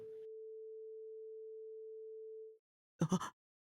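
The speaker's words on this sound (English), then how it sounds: "there had been a sound like a ringing in my ears" A steady pure electronic ringing tone, the ear-ringing effect from the visual novel CHAOS;HEAD NOAH, holds for about two and a half seconds, then cuts off, followed by a short burst of a different sound.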